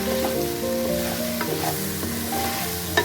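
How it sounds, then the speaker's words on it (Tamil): Okra (ladies fingers) sautéing on a low flame for a dry Tamil-style fry, giving a continuous close sizzle with soft stirring scrapes and a single sharper utensil tap near the end, no voices. "ஃபுல்லாக வெண்டைக்காய் வந்து ஃபுல்லாக வதங்கணும். இது வந்து லோ ஃப்ளேமில் வச்சு பண்ணிங்கன்னா நல்லா வரும்."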